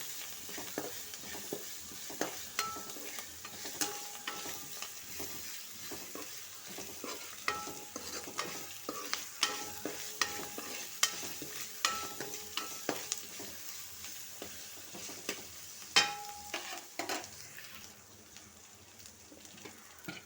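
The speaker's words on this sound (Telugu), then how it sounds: "దీంట్లోనే కొద్దిగా కరివేపాకు వేసుకున్నామండి ఇది బాగా కొంచెం బ్రౌనిష్ కలర్ వచ్చేదాకా బాగా వేకనివ్వండి" Curry leaves frying in oil in a pan for a Telugu broad bean curry, with a steady low sizzle and repeated stirring clicks of a spoon against the pan throughout.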